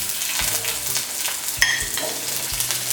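Green and red chillies, chopped garlic and onion pieces fry in a pan, a steady close sizzle broken by a few scraping stirs.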